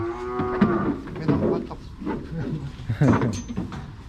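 Young cattle being loaded for transport to Kut Chum, Yasothon, Thailand, lowing in several short moos mixed with clattering and handling noise and someone talking nearby.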